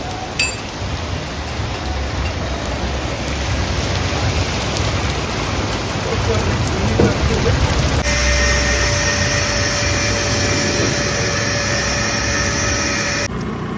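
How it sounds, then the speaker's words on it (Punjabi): Steady, fine patter of light rain falling on a farm, a continuous hiss throughout, with a faint mechanical drone joining partway through. "ਪਹਿਲਾ ਦਿਨ ਅੱਜ ਮਾੜਾ ਜਿਹਾ ਪੈਣ ਲੱਗਿਆ ਮੀਂਹ"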